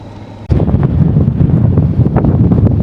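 Strong wind buffets the microphone, a steady loud rumble that starts abruptly and roars on with gusty surges.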